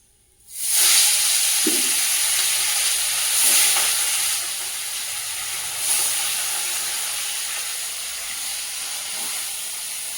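Lote fish (Bombay duck) coated with ginger, garlic and onion hits hot oil with a sudden loud burst of frying, then settles into a steady close sizzle that swells briefly a couple of times before slowly easing.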